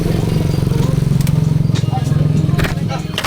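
A motorcycle idling close by, brought in for a check because it stalls when the idle is adjusted, with a steady low pulsing throb and some clatter, under a voice.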